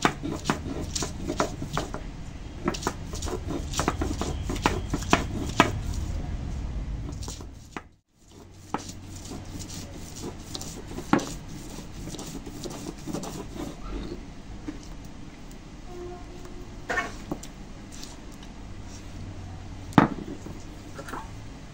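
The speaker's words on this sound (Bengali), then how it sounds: "এখন আদা রসুন বাটতে এসছি।" Ginger and garlic are ground on a grinding stone, a run of rough rhythmic scraping and knocking strokes, dense at first, breaking off briefly around the eighth second, then continuing with scattered sharper knocks.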